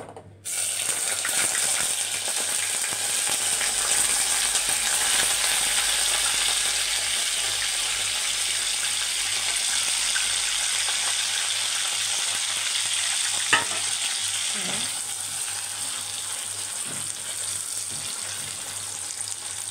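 Eggplant slices frying in oil make a loud, continuous crackling sizzle that holds steady for about twenty seconds, with a few faint clinks of stirring near the end and no talk.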